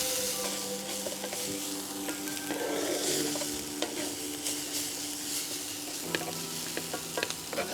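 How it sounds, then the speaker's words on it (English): Shallots frying in a pan at an outdoor cooking demonstration hiss and sizzle steadily and close, with stirring scrapes and small clicks of the utensil against the pan throughout. "Let's cook out those shallots."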